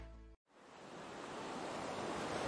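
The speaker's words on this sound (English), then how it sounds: "here you are, in the middle of the ocean" Ocean waves in open water far from any shore, a soft steady surf wash that rises gradually after a brief silence, alone with no voices.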